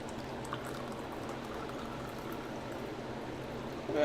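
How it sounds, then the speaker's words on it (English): Coffee is poured into a cup in a steady continuous liquid stream lasting several seconds, close and fairly loud, with a brief clink near the end. "Get that action, that coffee pour action on camera"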